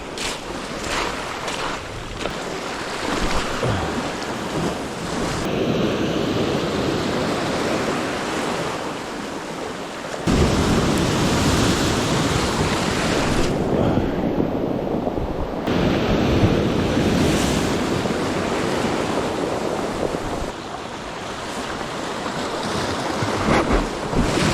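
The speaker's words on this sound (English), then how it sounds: "Swell is proper pumping this morning" Ocean swell surging and breaking at a coastal lure-fishing spot, a steady loud wash of surf that swells and recedes across the whole stretch, with gusts of wind buffeting the microphone.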